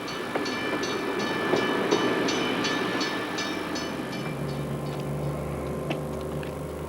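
A passenger train rumbles steadily along the rails, with a low rolling drone and faint rhythmic clicks from the wheels, no voices.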